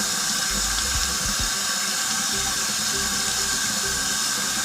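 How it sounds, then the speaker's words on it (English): Hands rinsed under a running tap, with a steady, close hiss of flowing water and splashing that stays constant and alone throughout. "Pretty much I rinse my hands, and whatever's dripping"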